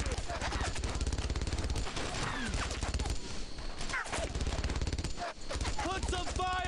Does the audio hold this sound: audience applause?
no